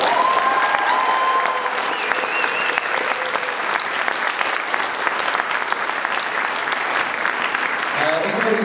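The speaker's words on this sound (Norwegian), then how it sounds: "Så en stor applaus til egentlig alle som har deltatt i revyen." A school revue audience gives loud, sustained applause for the whole cast after the final performance, a dense, even roar of clapping that carries on throughout with little change.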